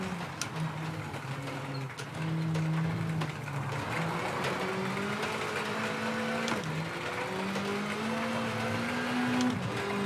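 A rally car engine in WRC 8 drones steadily, its pitch climbing and dropping through gear changes as the car drives continuously, with gravel and road noise underneath.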